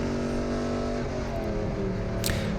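Race car engine droning steadily at Gingerman Raceway during a Gridlife GLTC race, a continuous loud harmonic whine with shifting pitch and a brief high burst near the end.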